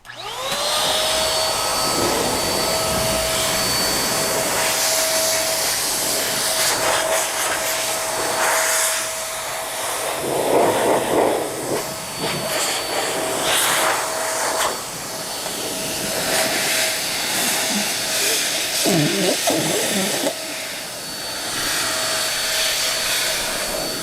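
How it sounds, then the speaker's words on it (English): A Phoenix EOD Typhon interior cleaner blows a loud, steady rush of compressed air through a car interior to push out light dirt. A whining tone and shifting hiss run the whole time. "any really light dirt, blow it out or blow it down to the floor where we can vac it later"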